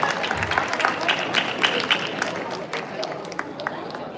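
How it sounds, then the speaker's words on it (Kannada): Audience clapping at a Deepavali and Rajyotsava community celebration, a brief, fairly thin round of applause from a modest crowd with some voices mixed in. "ಯಾಕೋ ಚಪ್ಪಾಳೆ ಕಮ್ಮಿ ಬಿತ್ತು"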